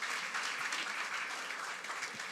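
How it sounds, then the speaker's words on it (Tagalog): A church congregation at a Sunday service claps in dense, sustained applause that holds at an even level and stays unbroken, with no one speaking over it. "Sa lahat po ng excited, pumalakpak ng malakas kay Lord."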